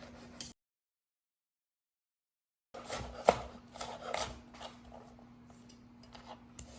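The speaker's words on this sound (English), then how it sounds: "I'm gonna go ahead and cut this in some good slices" A knife cuts slices through a seared, pink-centred steak on a board. Soft scraping and cutting strokes follow a brief silent gap, with one sharp tap of the blade, heard close and moderately quiet.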